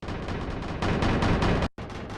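Weapons fire rattles without letup in a war strategy game, a dense, loud, continuous barrage that drops out abruptly for a moment and then resumes.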